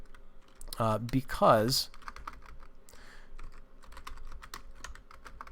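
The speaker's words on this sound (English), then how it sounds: "I'm just not typing well tonight." A computer keyboard clatters with quick, irregular keystrokes under a man's speech, the clicking continuing after his words stop.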